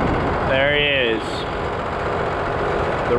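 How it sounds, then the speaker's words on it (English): A tractor engine idles with a steady, low rumble throughout, while a voice talks over it. "This is the only tractor we really had available."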